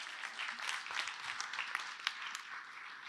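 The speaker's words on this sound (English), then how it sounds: "So can we give him a big round of applause" Steady audience applause fills a conference hall at MongoDB World 2022 as a streaming product manager is introduced, dense and continuous clapping at moderate distance throughout.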